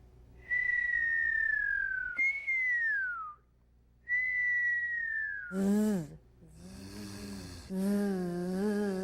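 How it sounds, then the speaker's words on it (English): A person whistles several sustained, gliding tones with short pauses between them. Breathy, buzzy snoring-like sounds follow toward the end. "Now whistle."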